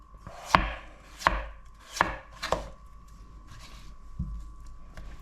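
A knife chops potatoes into julienne strips on a board: four sharp, close strikes in an uneven rhythm, followed by quieter handling.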